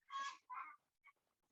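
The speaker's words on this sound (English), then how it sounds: "They're clucking away." Chickens outdoors break into a loud, squawking cackle: two long honk-like calls and a short third call, set apart by brief pauses, with no voices.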